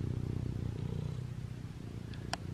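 A low, rhythmic rumbling purr from a cat close by, with a faint rustle and a brief sharp click near the end.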